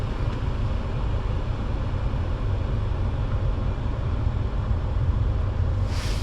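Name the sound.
car engine idling during battery charge test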